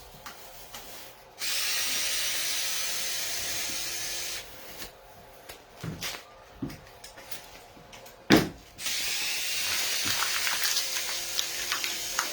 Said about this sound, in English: We are going to remove these transmission screws.